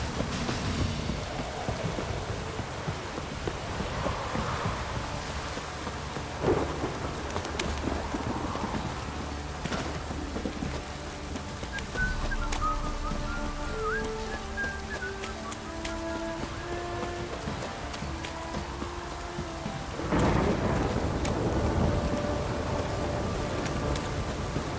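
Steady rain pours through a scene in The Witcher 3: Wild Hunt on PlayStation 4, with a single deep rumble of thunder rolling in near the end, layered over faint background music and no speech.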